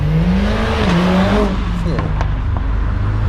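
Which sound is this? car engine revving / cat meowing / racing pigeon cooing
car engine revving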